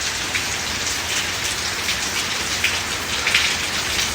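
Rain falls steadily in a village, a dense even patter on surfaces with a few brighter drops standing out, moderately loud and with no voices.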